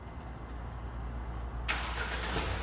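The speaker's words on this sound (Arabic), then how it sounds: "هذه ريموت السيارة فيها نظام التشغيل عن بعد" A 2024 Jetour T2 Comfort trim with a 2.0-litre turbo engine starts by remote start: a quiet background hum, then a sudden crank and catch at about the midpoint, settling into a steady idle close by.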